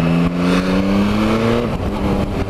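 The three-cylinder engine of a Yamaha Tracer 900 motorcycle revs loudly and close by, its steady droning tone climbing gradually in pitch before easing off and settling into a rougher running note.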